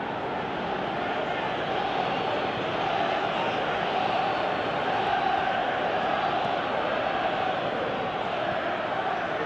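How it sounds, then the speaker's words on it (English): A large stadium crowd roars steadily and loudly in the PES 2017 football game, a continuous wash of cheering with no breaks. "Crowd appreciates good football all round there."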